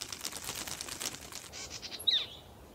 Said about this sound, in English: The birds fluttered nearby,